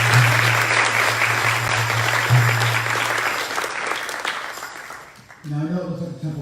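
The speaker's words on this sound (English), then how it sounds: "Let's give him another round of applause." Applause from a temple audience during a Gaura Purnima celebration, a dense sustained wash of clapping that fades out toward the end as a voice begins speaking.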